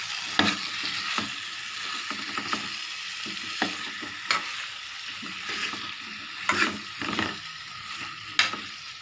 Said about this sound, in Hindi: और इसको अच्छे से मिक्स कर देंगे।